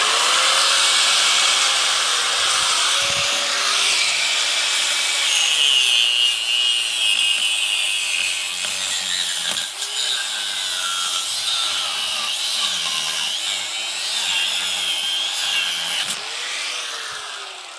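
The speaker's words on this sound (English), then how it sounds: "You can cut aluminium, no problem with an ordinary cutting disc, but a little bit of beeswax really helps." Aluminium being cut with an ordinary cutting disc: a loud, continuous abrasive grinding roar with a high whine that runs steadily for about sixteen seconds, then tapers off near the end. No talking.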